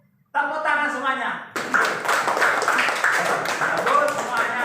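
Children in a fourth-grade classroom clap hands together in a brisk, patterned burst after a teacher speaks briefly, the clapping close and lively for several seconds.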